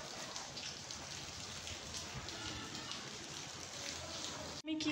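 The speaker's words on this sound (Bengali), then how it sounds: "সকাল থেকে বৃষ্টি হচ্ছে" Steady rain falls, a dense even hiss with faint scattered drops, continuing alone without a break and cutting off briefly at the very end.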